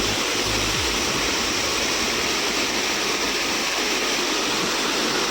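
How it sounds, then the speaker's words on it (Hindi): A fast-flowing river in Himachal Pradesh roars loud and close, a dense, unbroken rush of water, with a brief low thump near the start. "पानी का बहाव बहुत तेज है, जिसके प्रेशर से यहाँ पर पत्थर भी घूम जाता है।"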